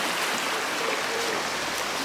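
Water rushes steadily along an irrigation channel in Spain's Sierra Nevada mountains, a close, continuous broadband gurgle and hiss with no talking.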